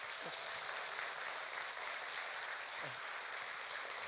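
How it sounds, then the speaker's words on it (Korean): Church congregation applauding, a steady wash of clapping heard faintly from a distance throughout, with a brief voice near the start and again near the end. "우리 모든 임직준비위원회를 위해서 한번 인사드릴 때 한번 박수 한번 쳐주시면 감사하겠습니다."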